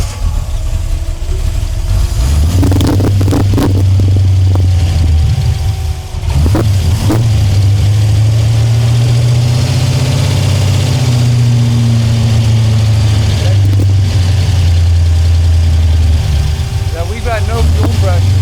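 A Chevrolet El Camino with a fuel pressure fault and a lean-running engine is started and settles into a loud, steady, close idle with slight wavering in pitch. A brief dip comes midway, and no one speaks.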